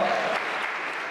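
Applause from a live audience at a national creative competition, bursting out right after a countdown; dense steady clapping that fades a little over a short moment.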